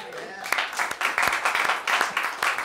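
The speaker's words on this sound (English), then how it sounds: "I don't know why you're clapping" Scattered audience clapping at a Louisville single-payer event, a loose run of claps and short bursts that rises and falls for a few seconds at moderate level.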